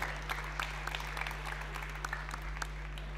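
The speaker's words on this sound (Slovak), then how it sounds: "Potlesk." An audience at an awards presentation claps steadily, a dense patter of many hands at moderate distance over a low constant hum.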